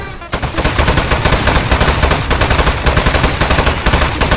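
Rapid, sustained automatic gunfire from a robotic turret in the video game Aperture Desk Job, a dense loud stream of shots that runs almost without a break from start to finish.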